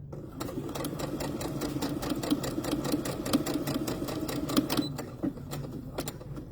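A sewing machine stitches fabric in a steady, rapid mechanical clatter with rhythmic needle taps that pause briefly and resume, close and fairly quiet, with no talking.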